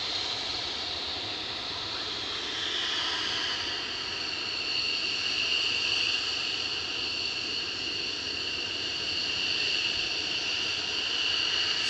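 A military jet rolls along the runway at RAF Lakenheath, its steady, loud engine whine and broad roar holding constant from afar throughout without any voices.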